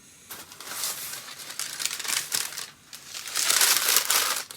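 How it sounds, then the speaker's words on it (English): Tissue paper crinkling and rustling as a book box is unwrapped, close and continuous with bursts of louder crumpling, no voices over it. "Tissue paper."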